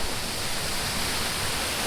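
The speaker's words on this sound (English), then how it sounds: "So this is our first Balinese waterfall" A Balinese waterfall near the Goa Gajah Elephant Cave roars as a steady, broad rush of falling water, loud and close with no breaks and no voices.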